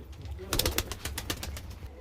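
A pair of Fulshira pigeons, just let out of their cage, give soft close coos amid a flurry of quick wing flaps, fairly quiet against a faint background with a hint of nearby voices.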